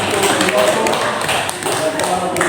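A high-school class in a religion lesson claps for classmates, a dense, steady patter of many hands that continues unbroken throughout.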